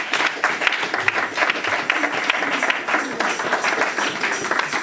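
A church congregation applauds steadily to welcome a woman stepping up to give her testimony at a consecration-day service, with dense, even clapping throughout and no voices above it.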